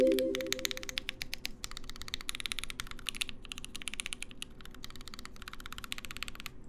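A mechanical 65% keyboard case being tapped in one hollow-sounding spot, a quick rattling series of light knocks that runs almost continuously and fairly close.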